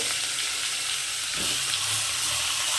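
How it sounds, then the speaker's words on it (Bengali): A fish head sizzles in hot mustard oil in a wok, giving a loud, constant hiss of frying with a brief stir or thump partway through. "এবার মাছের মুড়োটাকে ভেজে নেব"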